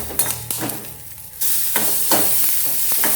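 Onion frying in a little oil, stirred with a spoon: sharp scraping strokes over sizzling that swells into a louder, steady hiss partway through.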